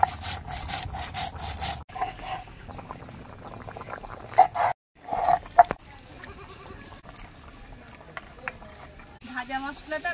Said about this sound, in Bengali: যে ভাজা মশলাটা ভেজে রেখেছিলাম শিলপাটায় বেটে নেব